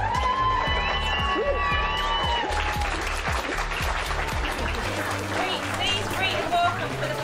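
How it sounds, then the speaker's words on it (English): Wedding guests applaud the newlyweds in a continuous burst of clapping and some cheering, carried over steady music with a strong thumping beat. "Let's give him a round of applause"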